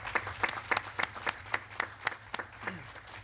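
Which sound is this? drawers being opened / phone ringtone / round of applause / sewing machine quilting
round of applause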